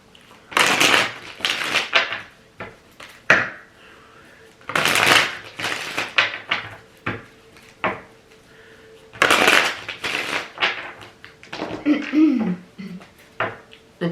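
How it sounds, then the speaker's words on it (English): Bursts of a stiff tarot deck being shuffled and riffled, loud crackling snaps in irregular clusters with short pauses between, very close. "This deck, it's like one of the most difficult tarot decks in the world to shuffle."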